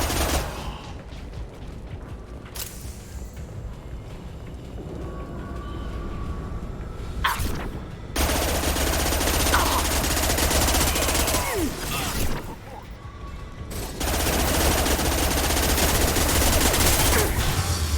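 Sustained gunfire in Mass Effect 2 Legendary Edition combat, a long stretch of loud, dense shooting that surges in several waves, with brief drops between bursts.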